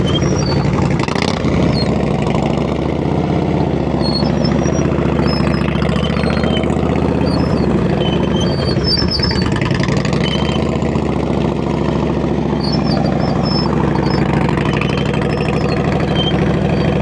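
A Honda Gold Wing motorcycle's engine runs steadily at low speed during slow-speed riding practice in Georgia, a constant close rumbling idle with no talk over it.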